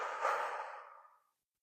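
A single long, breathy exhale during a hatha yoga breathing exercise, close and fairly soft, fading out gradually over about a second with no talking.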